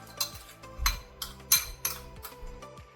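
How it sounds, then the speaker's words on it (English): A spoon stirs a Goan chili vinegar mixture with squeezed lime in a bowl for stuffed recheado mackerel, making a handful of light, irregular clinks against the bowl, close and fairly quiet. "Mix this well"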